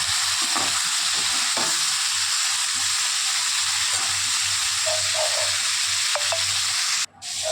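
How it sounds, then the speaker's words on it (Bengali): Vegetables frying in a kadai with black cumin seed, salt and turmeric, a continuous close sizzle under a low hum, punctuated by several sharp spatula scrapes and clicks, with a short dip in sound near the end. "সামান্য একটু নুন আর হলুদ দিয়ে ভাজা ভাজা করে নেব সবজিটা"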